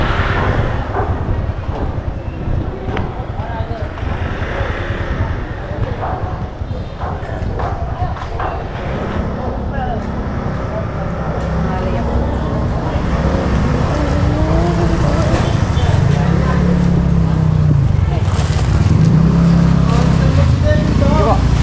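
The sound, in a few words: riding in a tricycle to the market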